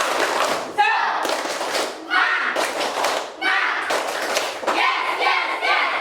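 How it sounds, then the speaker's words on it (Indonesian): A classroom of students performs a rhythmic 'tepuk semangat' clapping chant, with patterned bursts of group claps and thumps mixed with chanting voices. "kita tepuk semangat dulu"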